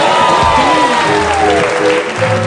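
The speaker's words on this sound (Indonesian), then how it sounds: "tepuk tangan" Studio audience applause on an Indonesian television talk show, a steady wash of clapping that fills the whole moment, with tonal music and a voice sliding over it.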